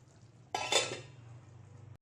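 Matar paneer is stirred in a pan over a low flame, a single soft scrape and clink of a spoon against the pan over a faint, steady low hum, close and fairly quiet.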